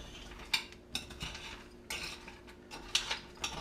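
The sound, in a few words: stirring homemade granola mixture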